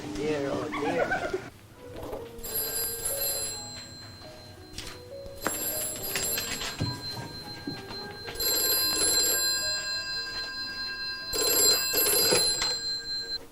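An old-style telephone bell rings in repeated bursts, each lasting a second or two with pauses between, sounding indoors over faint room noise and a brief voice at the start.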